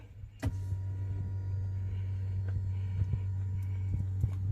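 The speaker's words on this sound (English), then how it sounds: "And the seat's going all the way back." An electric car seat motor slides the seat all the way back, a steady low motor hum running throughout with a few faint clicks and knocks, close and quiet, with no talking.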